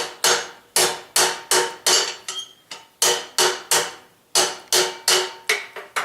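A hammer forges a twisted square steel tube down to a taper, ringing close and loud in a steady run of about a dozen sharp blows with short pauses between groups.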